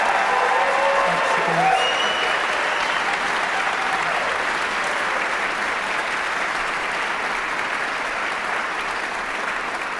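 An audience applauds an orchestra at a solidarity concert for Afghan musicians, a steady, loud wash of many hands clapping that fills the whole stretch, with faint voices and a few tones underneath.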